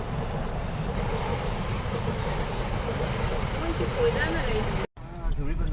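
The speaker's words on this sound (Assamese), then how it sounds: "মাল অনা গাড়ীহে ৰেলহে আহিবলৈ পালে এতিয়া" A freight train rumbles past with a continuous rolling roar of wheels on rails, loud and close, with faint squeals near the end.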